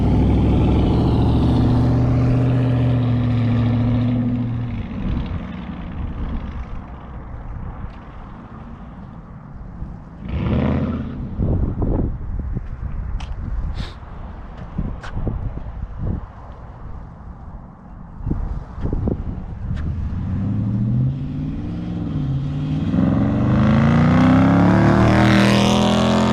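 Two 2019 Dodge Chargers, an R/T with a 5.7 V8 and a Scat Pack with a 6.4 V8, rev hard at close range, loud throaty bursts rising and falling between quieter idle stretches.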